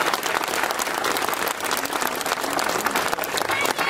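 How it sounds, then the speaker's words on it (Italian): A crowd gathered for a local election list presentation claps vigorously, the close, textured applause pulsing slightly in strength for four seconds with no talk over it. "Un applauso a loro davvero"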